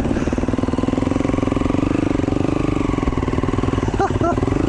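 A KTM 350XC-F enduro motorcycle engine thrums steadily at a low, pulsing idle to moderate throttle on an off-road trail, close and continuous, with brief higher squeaks near the end.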